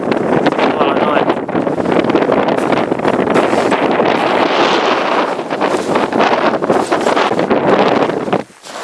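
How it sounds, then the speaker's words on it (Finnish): Strong wind buffeting the microphone on an open fell during kiting, a loud roaring rush that surges and eases throughout, with a brief dip near the end. "Tuuli on varmaan jotain 5 ja 10 välissä"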